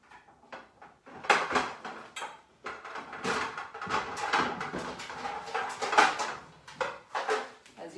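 Baking pans and metal bakeware being handled in a home kitchen during meal prep, with a run of close, irregular clanks, scrapes and rattles over several seconds.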